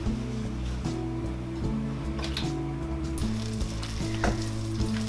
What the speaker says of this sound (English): we are going to have about a tablespoon and a bit of butter in the frying pan. So we're gonna melt the butter